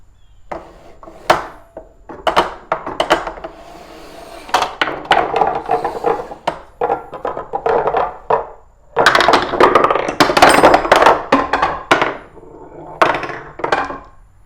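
Balls roll and clatter through a wooden ball-run wall art piece, giving a series of sharp wooden knocks and rattling runs. The bursts come irregularly and grow denser toward the end, close and fairly loud, with no talk.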